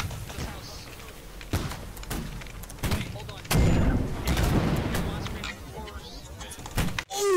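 Musket fire in the Holdfast: Nations at War video game comes as scattered sharp cracks, near and distant, over battlefield noise, with players talking throughout.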